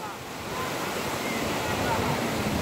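Foamy ocean waves breaking on a beach make a steady, close, broad roar of surf with some wind rush throughout.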